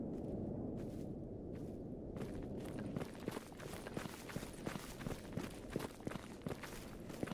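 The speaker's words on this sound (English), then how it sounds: "I hear footsteps." Footsteps in STALKER Gamma, a faint rhythmic series of steps that grows more regular and distinct in the second half over a low rumbling ambience.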